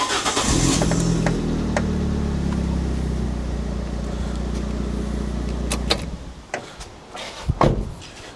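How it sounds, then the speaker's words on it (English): A car engine cranks and starts with power from a Vtoman X1 2500A jump starter, settling into a loud steady idle, followed by a few sharp clicks and clunks. "then you go to the car and start the engine"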